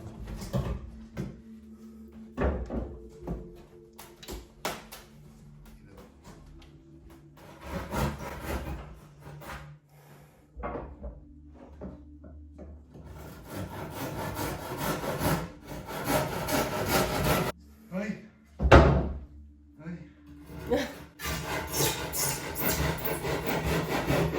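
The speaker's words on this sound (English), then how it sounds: "complete strangers sawing a hole into your roof" Irregular bursts of hand sawing a hole through a wooden roof for a skylight, with rasping strokes separated by pauses and scraping sounds, close by.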